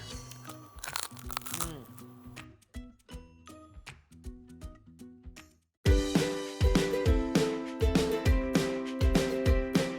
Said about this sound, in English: Let me hear your crunch.